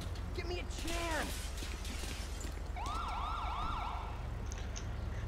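Ambulance siren in GTA V, a wailing tone sweeping up and down several times mid-clip over a steady low engine rumble, with a brief earlier siren chirp and game sounds around it.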